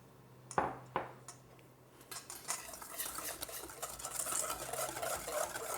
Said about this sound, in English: now I'm going to add my milk. And I'm just going to mix it by hand